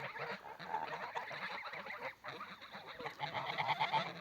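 Geese at a farm, grown birds standing among moulting goslings, honk nearby in a steady run of overlapping calls for several seconds, loud and continuous with brief dips between bursts.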